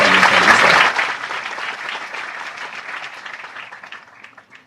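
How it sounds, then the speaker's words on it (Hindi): Loud audience applause welcoming Chief Minister Shivraj Singh Chouhan at a public event, a dense burst of clapping for about a second that then thins and fades steadily to scattered claps. "जोरदार तालियों से स्वागत"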